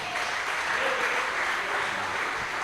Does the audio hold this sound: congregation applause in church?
yes